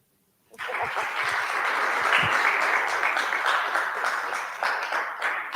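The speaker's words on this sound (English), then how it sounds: "So let's clap them." An audience at an architecture talk breaks into applause, starting abruptly after a brief silence and holding as a thick, even wash of clapping hands for the rest of the clip.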